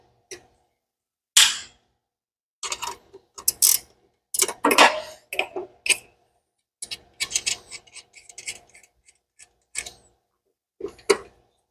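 Wrench working a fitting during a budget turbo install on a Mustang in a garage: scattered metallic clicks, ratcheting and clanks in irregular short bursts, close and fairly loud with quiet gaps, no talking.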